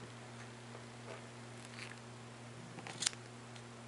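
Scissors cut a length of knitting yarn with a single faint snip near the end, over a quiet room with a steady low hum.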